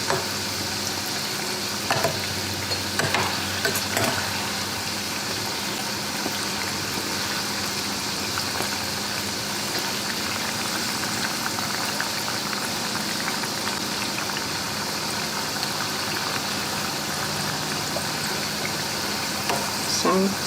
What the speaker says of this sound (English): I have to check that they get fried from both sides.